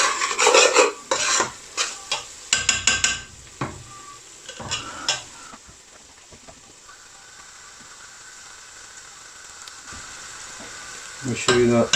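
Spices, including fenugreek leaves, fry in a family-size pot for Kashmiri chicken dhansak, with a burst of loud scraping stirs and clatter early on. The stirring then settles into a steady, softer sizzle, and more scraping strokes return near the end.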